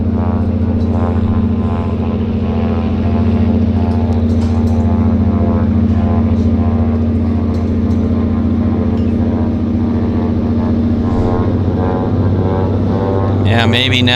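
A propeller floatplane runs up its engine at a downtown harbour airport in Vancouver, giving a steady loud droning hum with strong low tones throughout, and people talk over it.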